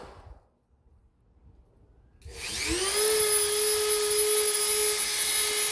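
Dremel rotary tool running at about 20,000 RPM carving a dog from manzanita wood: brief near-silence, then a high motor whine spins up and holds steady, loud and close, no talking.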